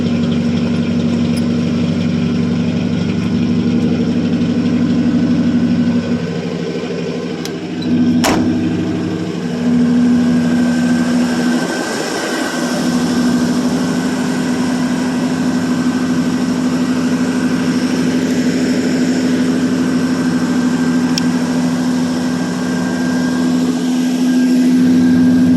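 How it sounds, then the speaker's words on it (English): A 1985 Chevrolet C10 pickup with a 305 small-block V8 idles steadily after a cold start, its exhaust giving a low, continuous rumble that stays loud and close throughout with no voices. "It's got some sweet sounding exhaust to it."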